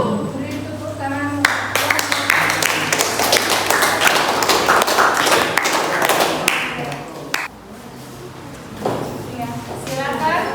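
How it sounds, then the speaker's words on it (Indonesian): Students in a classroom applaud a group after their presentation, a burst of sharp, fairly close hand claps that grows dense and then breaks off, with voices in the room near the end. "Beri tepuk tangan."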